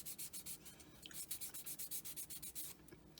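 Rhythmic rubbing strokes as burrs are filed or sanded off the edges of copper necklace pieces, a steady run of about a dozen short scraping passes, close and fairly quiet.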